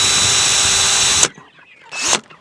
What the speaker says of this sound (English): Just take my drill Drill a hole in each side of it